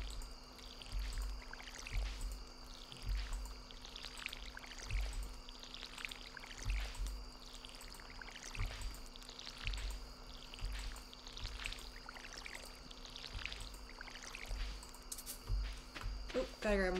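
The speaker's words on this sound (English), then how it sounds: "Okay, I gotta water all this." Repeated pouring splashes from a watering can over crops in the farming game Stardew Valley, a steady run of short watery bursts with faint footsteps between them.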